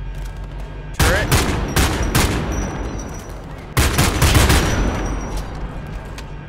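Turret gunfire in the shooter Homefront: The Revolution, with two loud, heavy bursts of rapid fire, each rattling on for a couple of seconds before trailing off.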